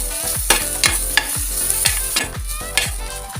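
Crushed garlic frying and being stirred in a pan for a Filipino papaya and moringa dish, with a steady sizzle and regular scraping strokes about every half second, close and alone.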